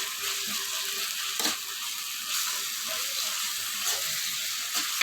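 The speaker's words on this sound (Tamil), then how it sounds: "கூடவே இஞ்சி பூண்டு பேஸ்ட்டு, போட்டு நல்லா வதக்கிக்கலாம்." Ginger garlic paste and curry leaves sauté in a hot pan for egg thokku, a steady bright sizzle with occasional scrapes and stirs close by.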